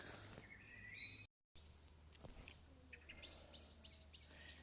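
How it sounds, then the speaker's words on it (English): Swifts calling while flying around the eaves of a house, with faint, distant high-pitched chirps and screeching trills repeating several times against quiet outdoor background. "I think they're swifts."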